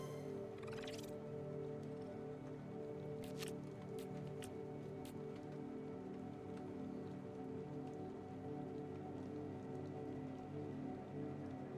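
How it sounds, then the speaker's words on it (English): Heavy rain from a storm in the game Dispatch, a steady dense hiss of falling water with a few sharp clicks and taps over a constant low hum. "There's got to be a reason why this rain is this heavy."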